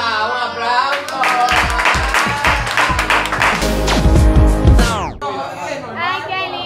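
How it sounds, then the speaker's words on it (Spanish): Studio audience applause on a Spanish-language birthday talk show, a sustained dense patter of clapping that swells and holds for several seconds, mixed with chatter and music, then cuts off abruptly near the end. "¡Ah, un aplauso!"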